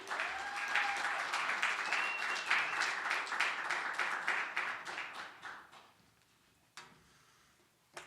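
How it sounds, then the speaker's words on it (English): A small audience at a storytelling and poetry open mic gives a round of applause; the clapping is brisk and fairly close, then fades out to a few last claps and a quiet room with occasional knocks. "Please give a very big round of applause for Jeff."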